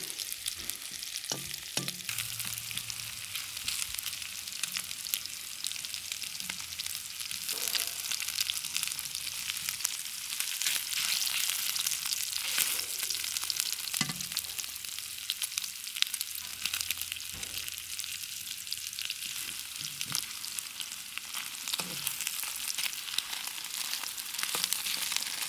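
Beef and bean sprouts stir-frying and browning in a pan, a continuous bright crackling sizzle broken by occasional low knocks and scrapes of stirring, close and steady, with no voices.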